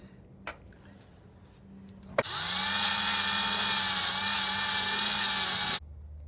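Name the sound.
power tool removing surface rust from metal clips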